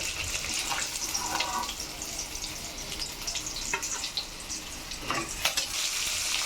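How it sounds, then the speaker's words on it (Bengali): Chitol fish frying lightly in hot oil until golden, a steady close sizzle with faint crackles and occasional scraping of a spatula, no voices. "সবগুলো মাছ আমি এইভাবে করে ভেজে নেব"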